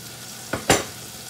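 Chopped onion and shallots tipped into a hot pan for burgers, two quick rushing sizzles in close succession as they hit the fat, then a low steady frying hiss.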